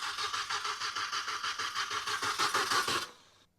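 An R53 Mini Cooper S that sat for nine years cranks over with a steady rhythmic whirring and chugging, close and even, before the starter cuts off and it falls quiet without firing.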